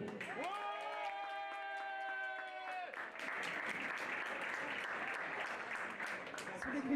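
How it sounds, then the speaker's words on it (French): Steady applause from an audience at a dressage competition prize-giving fills the clip, with a sustained tonal chord at the start fading into continuous clapping. "On l'applaudit Clotilde Perrault."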